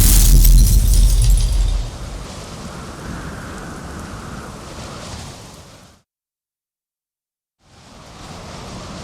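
Heavy rain pours during a thunderstorm in The Witcher 3 video game, with a loud rumbling burst of thunder at the start, then steady rainfall that cuts out briefly before resuming.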